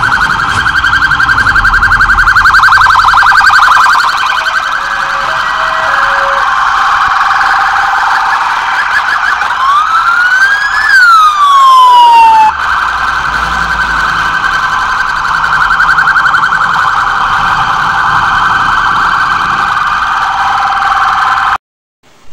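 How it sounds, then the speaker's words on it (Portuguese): A police vehicle's siren wails loud and near during a security operation in Mirassol D'Oeste, Brazil, a steady electronic tone running almost continuously with a brief rising sweep midway before cutting off abruptly. "Nesse momento, mais uma viatura chegando."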